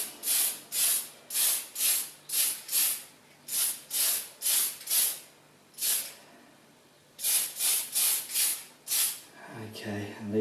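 Short bursts of spray paint hiss close up onto a Tamiya Dual Ridge 4WD buggy model bodyshell in a steady rhythm, a dozen quick puffs, a pause, then more bursts before a brief voice.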